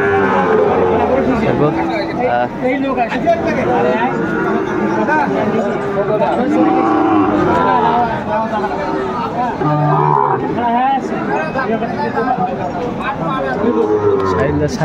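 A Sahiwal bull calf moos amid a noisy crowd, with people talking and chattering loudly around it in a busy livestock market.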